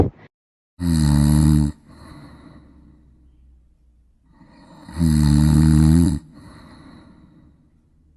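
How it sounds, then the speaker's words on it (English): Two loud, drawn-out snores about four seconds apart, each followed by a softer wheezy exhale, with quiet gaps between. "Misty snored."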